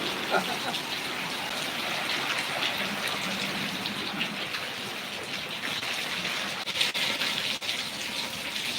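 Heavy rain with strong wind in the village of Khadvavdi, a dense steady hiss of downpour with gusty rushing and occasional sharper patters, heard continuously without a break.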